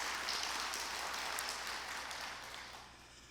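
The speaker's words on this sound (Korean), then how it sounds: "찬양 불러주신 찬양대에게 한번 박수합시다." Congregation at a Seattle church's Easter joint service applauding the choir, a soft, distant wash of clapping that fades gradually over a few seconds.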